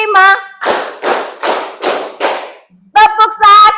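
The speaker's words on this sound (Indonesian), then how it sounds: "tepuk 5, tepuk 1, tepuk 3, tepuk 2," Classroom of students clapping together in a counted pattern, five dense sharp bursts of many hands in even succession, loud and close, with a teacher's voice calling out before and after.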